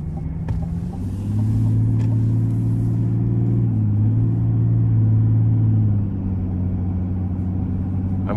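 Duramax diesel pickup engine rumbling steadily with a deep low tone, swelling into a sustained rev for a few seconds before easing back to idle, heard close without talk.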